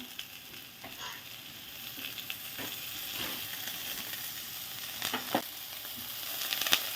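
Sliced onion, ginger and tomato fry in a pan with a continuous hiss and crackle, punctuated by occasional clinks and scrapes of stirring, fairly close and steady with no talking.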